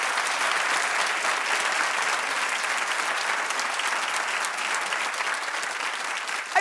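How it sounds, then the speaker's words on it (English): Studio audience at a daytime talk show clapping steadily and loudly, a dense, even wash of applause that holds for several seconds with no talk over it. "clap if you think that's a bad 74"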